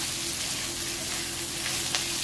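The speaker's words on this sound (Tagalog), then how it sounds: "So, gisa-gisa lang muna natin." Mung bean dish base being sautéed in a pan, a steady soft sizzle with faint stirring, quiet and continuous.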